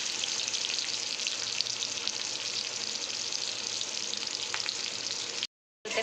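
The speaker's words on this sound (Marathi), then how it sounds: "तर आपलं तेल मस्त गरम झालेलं आहे. आता मी मिरच्या सोडते याच्यामध्ये." Green chillies and onion fry in hot oil with a continuous, even sizzle heard up close, broken by a brief dropout near the end; nobody speaks.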